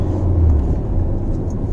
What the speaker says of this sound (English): let me just try engine braking